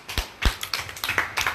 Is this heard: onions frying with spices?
no